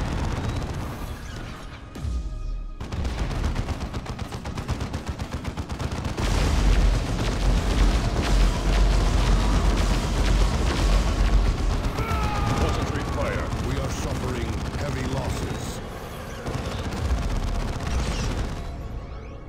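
Gunfire and explosions in a Dawn of War II battle during an Eldar ambush, sustained rapid shots and heavy booms, loud and continuous, with voices under the din.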